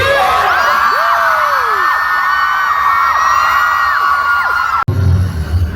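A large crowd of fans screams and cheers loudly and continuously at a Cha Eun-woo fan meeting, high-pitched shrieks rising and falling, then cutting off abruptly into a quieter murmur.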